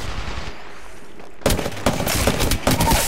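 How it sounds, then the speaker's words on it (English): Gunfire in the battle-royale shooter Apex Legends: after a quieter lead-in, loud bursts of shots break out and repeat in clustered volleys to the end. "We're being shot at."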